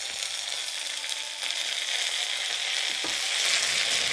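Dried red chillies cut into pieces and curry leaves sizzling in hot oil with mustard seeds and shallots for a tempering, a steady bright crackling hiss that builds slightly, close up and without voices.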